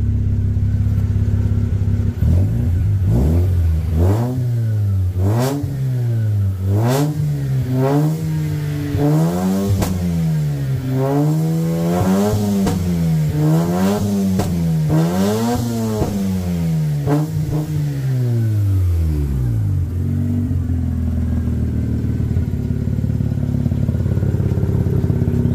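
A Mazda RX8 engine runs close by, revved up and down in a long series of smooth swells for about twenty seconds before settling back to a low, steady idle rumble.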